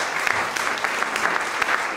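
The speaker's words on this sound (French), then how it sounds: "Merci de l'applaudir." An audience applauds a presenter at a pitch event for nominees, continuous crowd clapping at a steady level from start to end, no voices on top.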